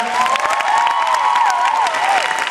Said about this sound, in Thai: ขอเสียงปรบมือให้ผู้จัดทุกคนด้วยครับ